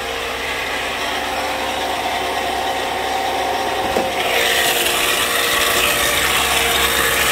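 A loud, noisy car alternator running with the hood open, giving a constant dense whirring and rattling drone that grows slightly brighter partway through, close and steady with no talk.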